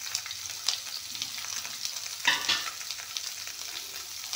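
Ginger, garlic and a chili frying in a pan for a pumpkin-shoot dish, a steady hiss of oil with faint stirring scrapes and a couple of louder spatters, close and alone without talk.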